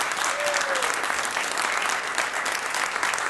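Steady, dense applause from a crowd, clapping evenly throughout at a moderate level without letting up.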